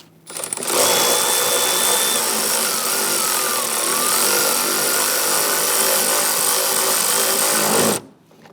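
A bolt is tightened on the lower intake manifold of a 2011-2021 Jeep Grand Cherokee 3.6L V6 with a loud, continuous mechanical whir that runs steadily for about seven seconds before stopping abruptly.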